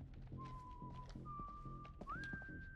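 A character whistles a tune in the Iraq-set horror video game House of Ashes, a clear held melodic whistle over low background game sounds and thumps, no talk.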